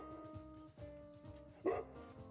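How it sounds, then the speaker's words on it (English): Large dogs bark in a brief, loud burst late in the clip, rising over steady, repetitive background music. "I came across two large dogs."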